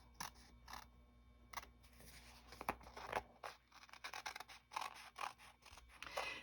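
Scissors trimming the edges of paper trifold tags, a string of quiet, close snips and soft scrapes in an irregular rhythm, faint and alone.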